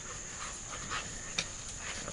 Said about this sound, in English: hoping Big Puppy and Daddy Duke, maybe some of the other puppies, were going to start playing for us this morning